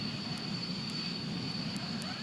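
Tornado F-3 interceptor jet of the Royal Air Force, a steady sustained engine roar with a high whine, heard alone and fairly loud throughout.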